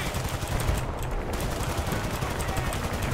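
Machine-gun fire in Battlefield: Bad Company 2, a dense continuous rattle of automatic shots with battle noise filling the whole stretch, steady and loud throughout.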